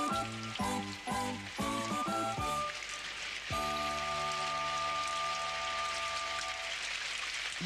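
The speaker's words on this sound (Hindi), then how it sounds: "बारिश।" Steady rain hisses throughout, a dense patter behind tonal music that starts in short bursts and then settles into sustained chords.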